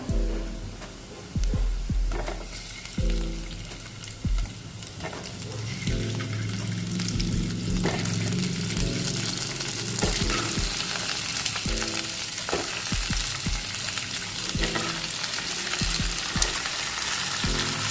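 Garlic and eggs frying in a pan, a steady loud sizzle throughout, broken by scraping and stirring knocks of a utensil, close up, with no talking.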